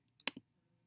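A few quick, faint computer mouse clicks sound close together within half a second, then quiet follows, with no talking.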